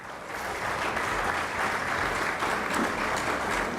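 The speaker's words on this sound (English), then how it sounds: "A big round of applause for her." An audience gives a round of applause for a woman being honoured. The clapping is steady and fairly soft, as if heard from some distance, and lasts a few seconds.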